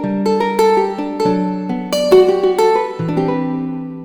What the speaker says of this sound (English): South American cavaqueño, really beautiful sound.